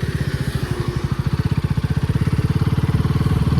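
A motorcycle engine idles up close for a ride's start, a loud rapid chugging pulse that grows slightly stronger and faster, with no talking over it.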